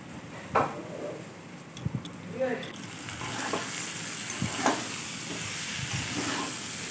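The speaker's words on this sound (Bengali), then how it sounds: "আর এদিকে ভাতটাও বসিয়ে দিয়েছি, ভাতটাও ফুটে উঠেছে।" A pot of rice boils on a kitchen stove, giving a steady bubbling hiss with scattered soft clinks and pops, fairly quiet and continuous.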